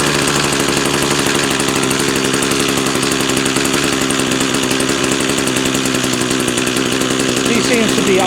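Small lawn equipment engine idling steadily after weeks of sitting, a close, constant buzzing chatter with fast even firing pulses, a voice speaking briefly over it.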